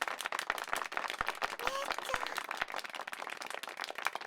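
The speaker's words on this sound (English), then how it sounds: "Applause following their spectacular performance, never stopping." Scattered clapping builds into steady applause from a crowd, with sharp individual claps standing out over a continuous rustle.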